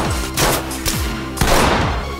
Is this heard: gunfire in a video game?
yes